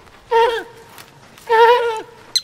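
Sheep bleating twice, two drawn-out wavering calls close by, followed by a faint short sound.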